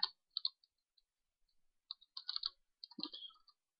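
Computer keyboard keys tapped during AutoCAD drafting, a few quick clicks followed by short bursts of close, crisp typing with brief gaps between.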